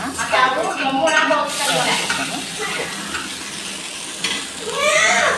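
Oats dosa, an instant batter dosa, sizzles and fries on a hot pan with a little oil, a steady close crackle with brief scraping and utensil clinks; a voice speaks over parts of it.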